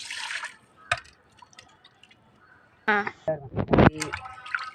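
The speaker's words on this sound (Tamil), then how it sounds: "இப்போ வந்து இதை கழுவி எப்படி கழுவுறதுன்னு உங்களுக்கு காட்டுறேன்" Fish being washed with water for a village-style fish fry, with splashing and trickling in short bursts at the start and again in the second half, while a person talks in between.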